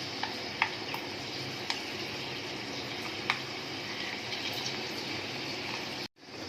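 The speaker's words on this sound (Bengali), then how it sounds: "এবার মেথি দানাটাকে ভালো করে আগে ভেজে নেব।" Fenugreek seeds frying in hot mustard oil, a steady soft sizzle and crackle with a few sharp pops scattered through it, continuous and close, cutting off abruptly near the end.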